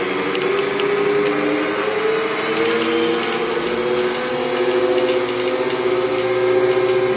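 Small quadcopter drone motors spin steadily on a DIY build with a KK2.1 flight controller, giving a loud, continuous high whine with a faint layered hum and no pauses.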